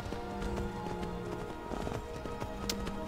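Hooves of a horse in Skyrim galloping uphill, a steady rapid clip-clop rhythm running throughout, close and fairly loud over a busy game background with no talk.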